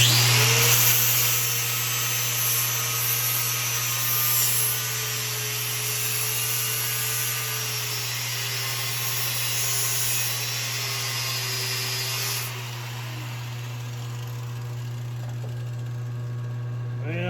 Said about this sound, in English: this doesn't appear to be cutting very well. The flap disc is wore out